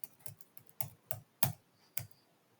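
A card number is keyed in on a computer keyboard during point-of-sale entry in Tally accounting software, giving six or so crisp, close keystroke clicks at an uneven pace in a quiet room.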